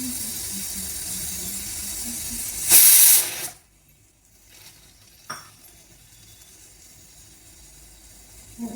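A pressure cooker cooking rice lets out one loud, short whistle of escaping steam over a low background hiss, then cuts off into near silence with a faint click afterward.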